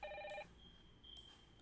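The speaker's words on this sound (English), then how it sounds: "Ringing." Telephone ringing on a computer: a short electronic tonal ring burst, then a thin sustained tone and a faint click, quiet and alone without speech.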